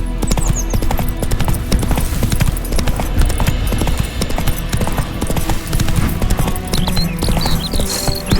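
Roach the horse gallops in The Witcher 3 with rapid, continuous hoofbeats pounding close and loud, and faint bird calls sit in the background.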